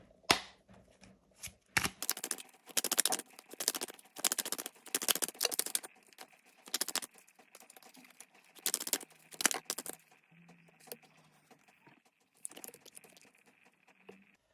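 Tarot cards shuffled by hand in a quiet room, a dense run of crisp riffling and slapping bursts that come and go in uneven waves, close and fairly soft, with no voice over them.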